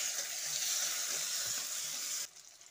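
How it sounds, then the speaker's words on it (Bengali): Chopped tomatoes and spices such as chilli, bay leaf, cumin and fennel hitting hot oil, giving a loud, bright continuous sizzle that drops off abruptly near the end. "তেল গরম হয়ে গেছে, এবার আমি ফোড়ন দিয়ে দেব"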